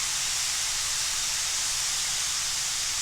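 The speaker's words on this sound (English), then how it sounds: "You're just going to fry your meat" Meat for chicken and steak fajitas sizzles in a hot pan, a steady close hiss that holds evenly without breaks.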